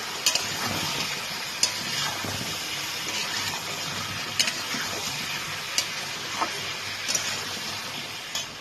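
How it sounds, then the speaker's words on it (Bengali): Vegetables stirred in a pan with salt, sugar, turmeric and cumin powder for a fish-head and Malabar spinach dish: steady close sizzling with a few sharp utensil scrapes and taps against the pan, no talking. "আমি নুন চিনি হলুদ গুঁড়ো আর জিরের গুঁড়োটা দিয়ে দিচ্ছি দিয়ে এটাকে দিয়ে আমি একটু নাড়িয়ে ঢাকনা দিয়ে দেবো"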